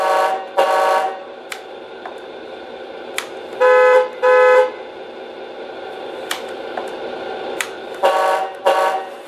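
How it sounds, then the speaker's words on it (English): Alternate truck horn sound from a Tamiya Arocs MFC03 sound unit in an 8x4 tipper truck model, sounding as several loud, short electronic honks in clusters, with fainter clicks and a steady engine hum between them, close and without speech. "If you pull this down, click it over, it changes the horn sound."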